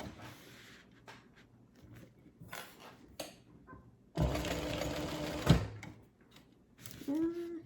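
Sewing machine stitching an Annette handbag, with a sustained burst of needle running for about a second and a half amid quieter handling noises and brief pauses.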